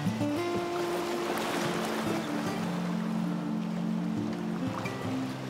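Rushing water churns and splashes close by as a canoe moves through rapids on the Restigouche River. There is a steady, broad wash of turbulence and no voices.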